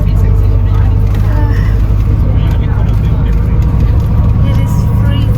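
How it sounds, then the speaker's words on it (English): A shuttle bus heading up to the Great Wall of China rumbles with a constant low engine hum from inside the cabin, while people talk loudly over it throughout. "We are taking a shuttle bus."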